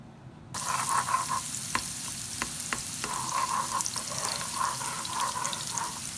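Two eggs sizzle in a hot pan with dried fish while being stirred, a steady close frying hiss broken by light scraping and tapping of the utensil, starting abruptly after a short quiet moment.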